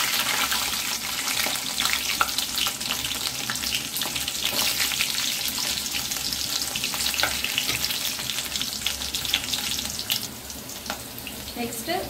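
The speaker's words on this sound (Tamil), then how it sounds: "நெக்ஸ்ட் பூண்டு போட்டாச்சுங்களா." Garlic fries in oil in a pan for a fish curry, giving a steady, dense sizzle that holds at an even loudness throughout with no voices.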